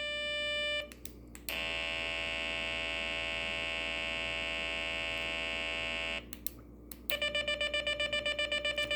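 A crack of the dawn solar alarm kit sounds a harmonic-rich electronic tone, one long steady buzz, a brief gap, then a rapid pulsing beep, all close and alone over a faint mains hum.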